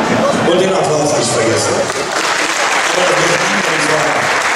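Crowd applause at a Landesliga freestyle wrestling final in Germany, a sustained wash of many hands clapping from a hall audience, loud and steady, with voices mixed in.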